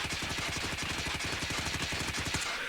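Rapid automatic fire from the Wrench rifle in a shooter game, a fast even stream of loud close shots for a couple of seconds, then a brief tail-off, with no voices.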